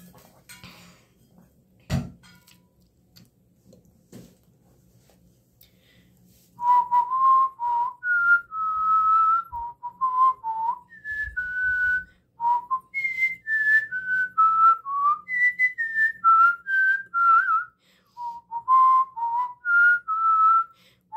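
A person whistles the Happy Birthday tune in its simple, regular version, a clear solo melody of sustained notes rising and falling in phrases, close and loud, after a few seconds of quiet with a single sharp knock.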